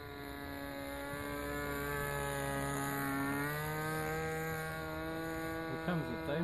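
A model SPAD FNS40 aircraft engine runs at full throttle in flight, a steady loud buzzing whine with rising and falling pitch, sustained throughout and heard alone.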